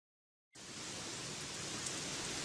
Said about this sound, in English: It's raining cats and dogs again.